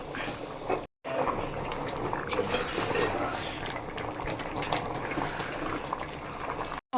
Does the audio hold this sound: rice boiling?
yes